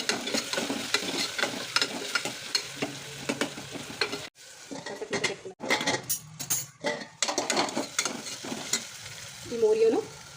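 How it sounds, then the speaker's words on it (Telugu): Ginger garlic paste and salt stirred into frying food in a pan for Gujarati-style mourya, with a loud sizzle broken by repeated scraping stirs, a brief pause midway, and no voices. "కొంచెం ఫ్రై అయిన తర్వాత అల్లం వెల్లుల్లి పేస్ట్, ఉప్పు కలుపుకోవాలి."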